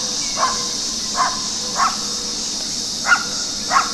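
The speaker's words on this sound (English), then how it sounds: "our neighbor's dog is barking right now" A neighbor's dog barks five times at a distance, evenly spaced short yaps over a constant high insect-like background hiss, fairly faint and with no voices.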